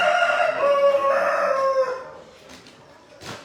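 A rooster crows once, a drawn-out strained call at middle distance, followed by quieter rustling and faint background noise.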